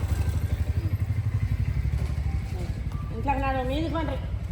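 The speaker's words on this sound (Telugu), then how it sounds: "తీ బైక్స్ వస్తున్నాయి చూసి." Motorbikes pass by with a low, throbbing engine rumble that holds steady close by, while people talk over it and a higher tonal sound rises near the end.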